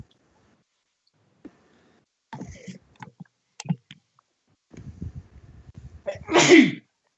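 A single loud, close sneeze bursts out near the end, after scattered clicks and brief soft voices at a tabletop game session.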